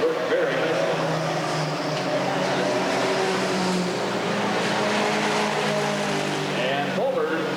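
Race cars driven hard through a turn at Redwood Acres Raceway, with loud continuous engine roar and whining revs as they push through and accelerate out, under a commentator's voice.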